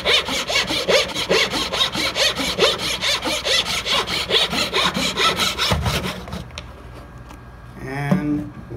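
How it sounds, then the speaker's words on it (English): Bridge City JS1 thin dovetail saw cutting fret slots in a bass neck, rapid even back-and-forth strokes close up for about six seconds, then stopping; a voice speaks briefly afterward. "This is a Bridge City JS1 saw, very thin dovetail type saw."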